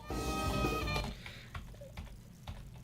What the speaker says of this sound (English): so you fade out of one and then fade into the other